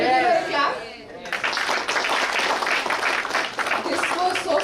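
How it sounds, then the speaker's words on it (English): Audience applause at an international college conference session after a presentation: a burst of dense clapping starts abruptly after a voice and continues steadily, with speech briefly at the start and end. "Can we give her a clap?"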